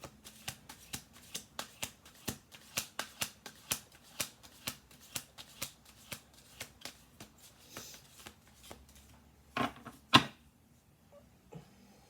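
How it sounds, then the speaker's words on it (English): A deck of cards is shuffled in a steady run of crisp riffling snaps, fairly quiet, followed by a final louder flick and near silence. "We're going to do this one last shuffle here because we've got 12 cards on the table."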